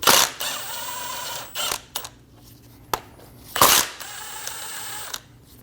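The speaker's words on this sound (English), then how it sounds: "Using a 16mm socket, we're going to drop these bolts down" Ratchet with a 16mm socket loosening the lower control arm bolts on a 2012-2022 Volkswagen Passat, giving short bursts of mechanical clicking between pauses, close and fairly loud with no talking.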